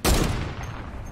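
A single loud gunshot-like blast in Fortnite, with a sharp onset and a rumbling tail that fades over about a second.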